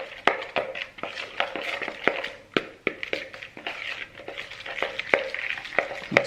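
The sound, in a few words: stirring peanut tempeh marinade with a spoon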